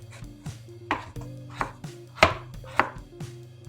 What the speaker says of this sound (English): I'm going to make sure to chop up these cherries.